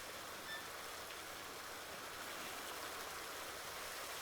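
Steady rushing hiss of water pouring into an animal trough in Farming Simulator 19, a faint, constant broadband flow with no talk.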